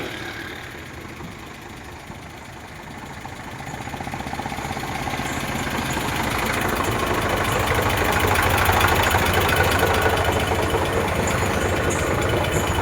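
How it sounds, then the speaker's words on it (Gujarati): An Eicher 368 tractor diesel engine, a 2017–18 model with self-start, idles steadily nearby, its rough low rumble continuous and gradually growing slightly louder over several seconds. "એન્જિન પાવરફુલ હોય."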